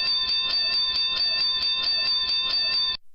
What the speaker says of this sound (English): It also sounds like a stock bell though